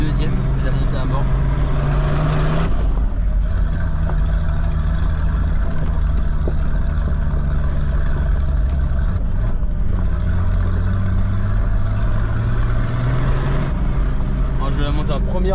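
A minibus engine drones loud and steady while climbing a mountain road in four-wheel drive, its pitch rising and dropping with gear changes, with a voice speaking over it.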